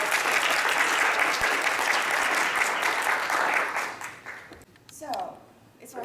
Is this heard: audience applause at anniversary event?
yes